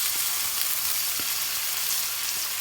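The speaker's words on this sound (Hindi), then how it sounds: "अनियन को फ्राई करने के दरमियान ही ये जो हमने 2 टमाटर काट के रखे थे, इनको भी हमने डाल लेना है अनियन के साथ ही।" Chopped onions and tomatoes fry together in a pan for a Borani Baingan recipe, a steady close sizzle with faint crackles and soft stirring, no voices.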